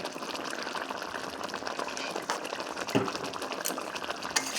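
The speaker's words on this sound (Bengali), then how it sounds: "তো এখন দিয়ে দেবো একটু সর্ষের তেল।" Mustard oil poured into a pan of pabda fish curry with poppy seed paste and green chillies, a steady close liquid sizzle and gush lasting throughout, with no talking.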